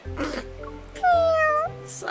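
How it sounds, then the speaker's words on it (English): A single drawn-out meow from a cat sounds near and loud, set between bits of speech. "A meow definitely came from my throat."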